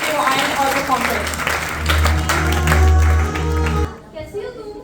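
Audience applause at a church performance of the Parable of the Ten Virgins, steady clapping running for several seconds under a loud voice on a speaker, then cutting off abruptly.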